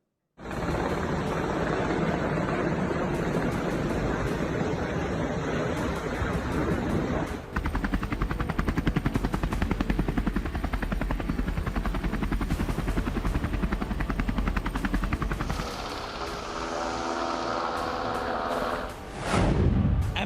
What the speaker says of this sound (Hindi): MH-60R हेलीकॉप्टर की दहाड़